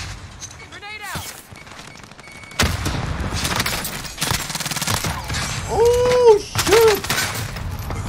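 A stun grenade goes off in a video game shooter, one sharp blast among bursts of gunfire and crackling impacts, with players talking over the action.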